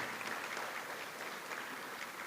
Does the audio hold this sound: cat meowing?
no